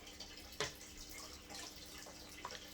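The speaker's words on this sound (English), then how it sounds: "So let's just water this beautiful baby." Water from a fish tank trickles and splashes onto indoor houseplants, a faint, close, irregular patter of pouring and dripping with small soft splashes.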